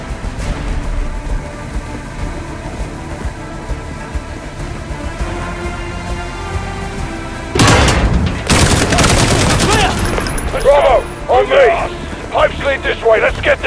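Heavy gunfire from the Call of Duty Modern Warfare campaign erupts after about seven seconds as a dense fusillade, following a stretch of tense ambient rumble, with shouted voices in the fight.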